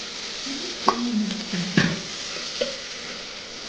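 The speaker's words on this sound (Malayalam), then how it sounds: "ശകല ഉപ്പ് ഇട്ട് കൊടുത്തിട്ടുണ്ട് ഉള്ളി വേഗം കുറച്ചൊന്ന് വാടിക്കിട്ടെ" Chopped onion sautéing with a pinch of salt in a pan for a home-cooked Kerala lunch, a soft steady sizzle with a few brief stirring scrapes and taps, close and unaccompanied by talk.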